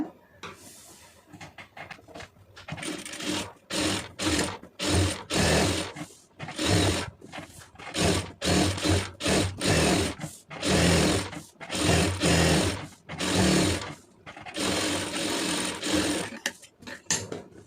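A sewing machine stitches around the edge of an Aari embroidered blouse, running in rapid mechanical bursts of varying length separated by brief stops, close and clear with no voices.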